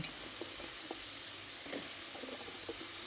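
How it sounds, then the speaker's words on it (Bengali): Cut potatoes dropped into spice paste frying in a pan for a Bengali vegetarian eggplant dish, giving a steady close hiss of sizzling with faint scattered pops and light clinks, no talk. "তারপর এর মধ্যে কেটে রাখা আলুগুলো দিয়ে দিচ্ছি"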